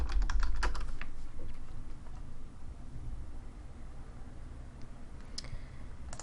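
Keys clatter on a computer keyboard in a quick, uneven run of taps, close and fairly quiet against a soft background hiss, with no one speaking.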